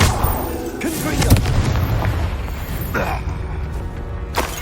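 Confringo fire-blast spell from Hogwarts Legacy on PS5, heard as a loud booming burst with a sharp crack, followed by further explosive impacts and a rumbling game soundscape.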